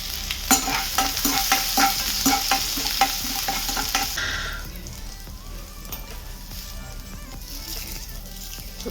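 Mustard seeds, cumin, urad dal and grated ginger crackle and sizzle in hot oil, with a few sharp pops, for a bhaji tempering. The frying is loud for about four seconds, then fades to a quieter background hiss.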